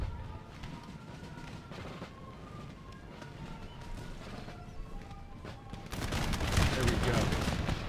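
Musket volleys crackle in a battle in the strategy game Empire: Total War, with rapid scattered shots ringing out and then swelling into a louder, denser burst of gunfire.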